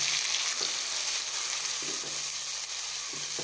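Onion paste made from one large onion sizzles steadily in a hot pan while sautéing for kadhi pakora, with a constant bright hiss and a few soft stirring scrapes, close and alone.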